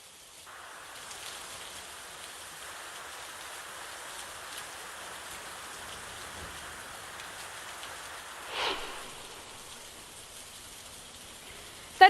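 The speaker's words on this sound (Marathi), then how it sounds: "मोठ्या प्रमाणात पाऊस होतोय" Heavy rain falling as a steady, even wash of hiss with a faint patter, continuous throughout, with a brief louder burst late on and a sharp knock at the very end.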